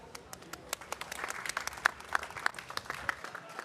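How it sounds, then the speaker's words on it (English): Applause from a climate conference audience after a panel talk on water and food security: sharp, scattered hand claps building into fuller clapping, moderately near and clear, with no talk over it. "Give that a bigger round of applause, please."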